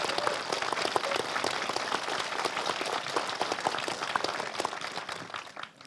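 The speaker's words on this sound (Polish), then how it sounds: "Proszę nie żałować oklasku" Audience applause at an evening debate event in Poland, a dense steady patter of many hands clapping that holds for several seconds and thins slightly toward the end, with no talking over it.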